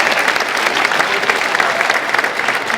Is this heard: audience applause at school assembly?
yes